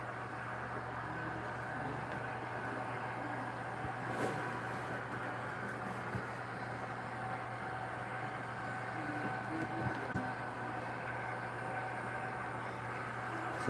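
A G scale model train runs with a steady, faint rumbling hum and a few small clicks and rattles, with no talk over it.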